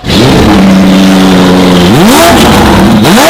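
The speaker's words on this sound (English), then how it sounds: "this car is one of the loudest that I have." A McLaren P1 hypercar engine, one of the loudest in a collection, roars very loudly and close, holding a steady drone before rising in two sharp revs near the end.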